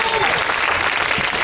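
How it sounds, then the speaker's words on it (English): Audience clapping at a public event at Thomas Hirschhorn's Gramsci Monument, a dense, steady burst of applause with scattered cheers, close and loud throughout the short moment. "Ladies and gentlemen, Mr. Thomas Hirschhorn, give him a round of applause."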